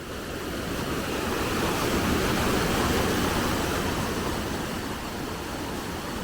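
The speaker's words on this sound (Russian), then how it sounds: "Вот такая здесь река течет." A river in Armenia's Zangezur Biosphere Complex flows past near a footbridge, producing a loud, dense, continuous rushing roar that swells slightly in the middle and holds steady, with no voices.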